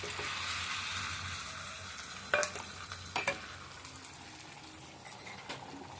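Ginger and spices (salt, turmeric, chili, cumin and coriander powder, a little sugar) fry in hot oil in a pan with a soft, continuous sizzle, broken by a few sharp clinks and scrapes of stirring. No one speaks.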